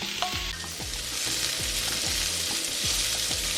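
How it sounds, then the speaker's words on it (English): Onions sauté in a skillet with a dense, steady sizzle, close up, while a utensil stirs them in regular repeated strokes; no one speaks. "we're going to add our onion and we're going to saute them for about 4 to 5 minutes."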